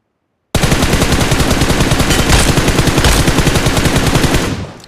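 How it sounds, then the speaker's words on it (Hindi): Rapid automatic gunfire from a scoped weapon in the mobile shooter BGMI, a dense continuous burst of loud shots lasting about four seconds alone, ending abruptly after a short silence at the start. "यहाँ पर मैंने स्कोप को खोल भी रखा है और फायर भी कर रहा हूँ"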